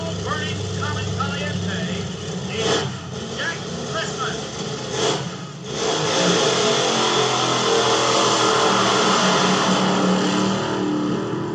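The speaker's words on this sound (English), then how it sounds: "out here now for a tire-smoking, high-winding run in a supercharged, fuel-injected, fuel-burning Comet Caliente" A supercharged, fuel-injected, fuel-burning Comet Caliente drag racer makes a tire-smoking, high-winding run at the 1964 Nationals, its engine roar building and holding loud and steady, with crowd noise and announcer talk early on.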